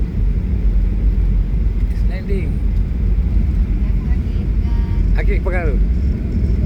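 An airplane comes down to land with a steady, loud low rumble of engine and wind noise throughout, while people talk excitedly nearby.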